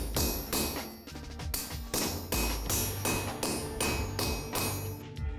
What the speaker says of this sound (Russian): Под молотом кузнеца наковальня словно оживает